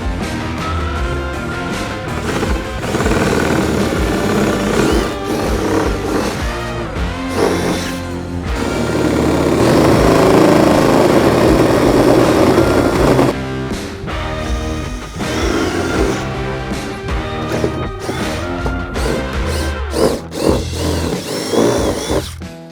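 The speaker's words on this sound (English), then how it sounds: "All right, so we just got our roof drilled." Power drill boring holes through the roof of a Polaris Ranger two-seat UTV during rack installation, the drill whirring steadily and loudly for long stretches, with short pauses and a few bursts of higher-pitched grinding.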